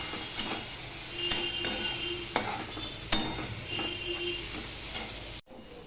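A spatula stirs bottle gourd peels frying in a pan, with a steady low sizzle beneath repeated scraping strokes of metal against the pan, ending in a sudden brief silence before the sizzle resumes.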